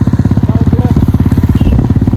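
Royal Enfield Bullet motorcycle riding on a monsoon ghat road near a waterfall trek, its single-cylinder engine thumping in a steady rapid loud pulse close by for the whole stretch, with no talk over it.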